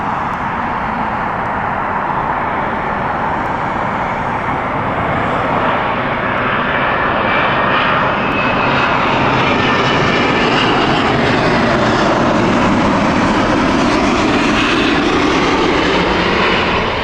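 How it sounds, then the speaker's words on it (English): A Cathay Pacific Airbus A350-900 inbound from Hong Kong lands at Heathrow, its loud engine roar building and sweeping past with a rising and falling whine over seventeen seconds. "Hong Kong flight, Cathay Pacific inbound. This is an Airbus A350-900."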